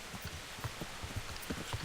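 Steady rain in Kingdom Come: Deliverance, a pattering patchy hiss with scattered soft drops and low thuds throughout, moderately faint and with no voices.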